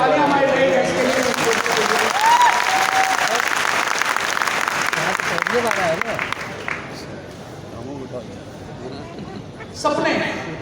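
An audience at an IMC Business leadership development program applauds loudly for about six seconds, then the clapping thins and fades while a voice carries on speaking, with a brief burst of sound near the end.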